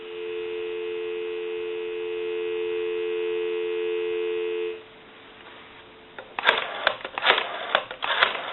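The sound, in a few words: telephone dial tone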